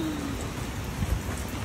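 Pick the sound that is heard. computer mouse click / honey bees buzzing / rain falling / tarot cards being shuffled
rain falling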